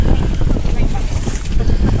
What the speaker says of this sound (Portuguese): Estamos andando só com o vento